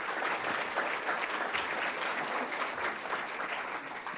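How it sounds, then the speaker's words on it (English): An audience applauds steadily at a public panel discussion on misinformation and the First Amendment, a dense, even wash of many hands clapping throughout with no gaps. "Another round of applause for all of them."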